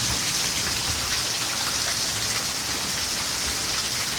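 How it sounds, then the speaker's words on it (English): A steady downpour hisses continuously, thick rain drumming on surfaces without a break. "it poured, it stormed."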